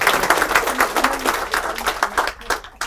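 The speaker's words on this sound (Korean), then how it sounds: "박수 한번 주세요" An audience at a housing-redevelopment training session applauds a department head: a brief, fairly loud burst of clapping that tapers off within about three seconds.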